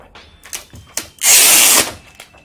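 Protective plastic film peeled off a white Xiaomi Mi Pad tablet, a loud, sustained crinkly tearing rush lasting about half a second, preceded by a few soft handling rustles and clicks.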